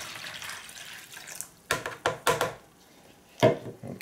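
Water poured into a mixing bowl for home oven pizza dough, first as a soft, steady trickle, then as several sharp splashing pours in quick bursts and one last louder splash, heard close.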